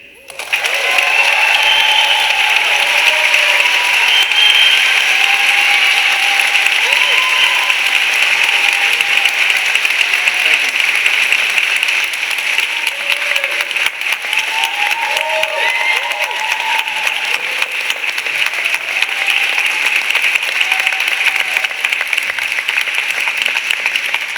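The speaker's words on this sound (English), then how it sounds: "One more round of applause." Graduation audience at an EMBA ceremony breaks into sustained applause with some cheering, a dense wash of clapping that stays loud and steady throughout, with scattered voices mixed in.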